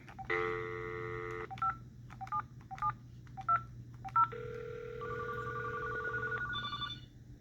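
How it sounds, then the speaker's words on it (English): A hotel room phone keypad beeps through a series of dial tones, then the phone rings with a warbling electronic tone, heard nearby over a steady low hum, in a Palazzo Las Vegas suite. "I can hear the phone in the bathroom, the phone here, and this phone ring."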